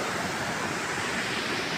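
A river rushes below a bridge downstream of a hydropower dam, a steady broadband roar of flowing water, loud and constant for the whole short stretch.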